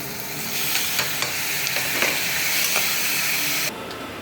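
Shallots, rock salt and tomatoes sautéing in a pan, a loud continuous sizzle with scattered clicks of stirring, cutting off abruptly near the end.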